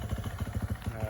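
A 2016 KTM 350 EXC-F enduro motorcycle, started cold without choke, runs at a steady, rapid idle, its single-cylinder pulses close and clear.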